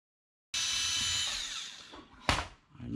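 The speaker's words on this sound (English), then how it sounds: "Now we gotta remove these 4 screws." Power tool driving out screws from a 2005-2006 Infiniti G35 instrument cluster, a brief close high whine that fades, then a short sharp burst, with no talk.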